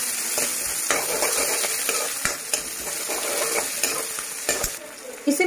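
Roughly cut onions fry in oil in a kadhai with a continuous close sizzle, broken by repeated scraping stir strokes of a spoon against the pan.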